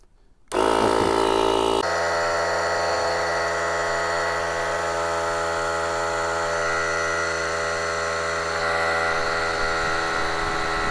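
A rechargeable JF.EGWO 2000A portable jump starter's built-in air compressor switches on after a brief quiet moment and runs steadily and loudly, a continuous motor drone with a rapid buzzing vibration throughout.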